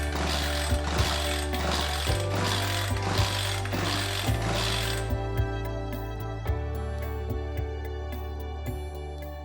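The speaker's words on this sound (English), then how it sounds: "simply turn the chainsaw upside down and pull out the starter rope" A chainsaw's starter rope is pulled again and again with the saw turned upside down, giving a steady series of ratcheting, clattering mechanical strokes, loud and close.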